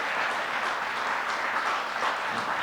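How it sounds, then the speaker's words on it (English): An audience gives a steady, dense round of applause for the program staff at a talks and performances event. The clapping is loud and continuous throughout, with no pauses. "Round of applause"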